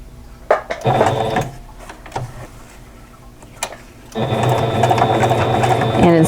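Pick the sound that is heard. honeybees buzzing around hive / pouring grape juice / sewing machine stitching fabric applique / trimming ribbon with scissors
sewing machine stitching fabric applique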